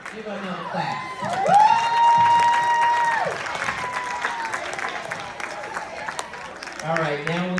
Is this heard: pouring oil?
no